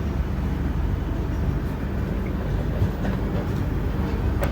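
Godavari Express (12728) running near Warangal railway station, a continuous loud rumble and rattle of carriages on the track with faint clickety-clack, heard alone and steady throughout.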